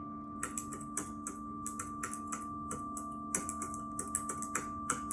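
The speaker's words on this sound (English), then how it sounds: "Broken only by the sound of her keyboard" Irregular keyboard typing, crisp clicks in short bursts and pauses, close up over a steady low electrical hum.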